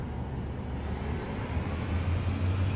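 Cirrus Vision jet engine in the MSFS 2024 flight simulator, a steady low rumbling drone held while braked, swelling slightly toward the end.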